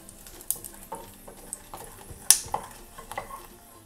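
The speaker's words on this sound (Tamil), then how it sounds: "இப்போ இதை வந்து ஒரு 2 நிமிஷம் வதக்கிடலாம்" Dried red chillies sautéing in hot oil in a pan for tomato chutney: a low, quiet sizzle broken by soft scattered scrapes and clicks of stirring, one sharper knock near the middle, with no voices.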